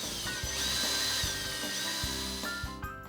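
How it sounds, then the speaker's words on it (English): A power drill bores pilot holes into a wooden flag frame bracket, the motor whining in several short, close bursts with brief pauses between them as the bit bites into the wood. "Drill pilot holes,"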